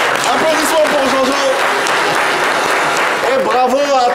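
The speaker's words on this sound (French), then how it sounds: "Applaudissements pour Jojo." An audience applauds Jojo at a lively crooner event, crowd clapping mixed with cheering and voices talking over it, loud and close throughout.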